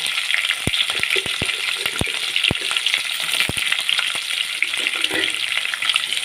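Loud, continuous sizzling and crackling of onions frying in oil with green chillies, punctuated by several sharp spatula taps against the pan.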